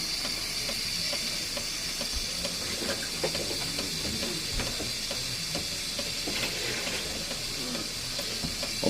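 A Jura F90 coffee machine froths milk for a cappuccino through its nozzle, producing a steady, close hiss with bubbling, sputtering texture that runs unbroken throughout.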